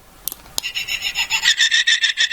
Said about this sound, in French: Donc pour Maître Yoda, il y a un bruit assez dégueulasse.